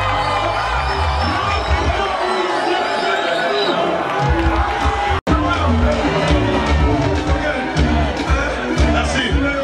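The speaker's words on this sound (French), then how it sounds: "Applaudissez très fort pour Dola Star" Studio audience at a Congolese talent show cheering and whooping for a performer, a dense roar of crowd noise with shouts throughout, a sharp click midway, and voices mixed into the din.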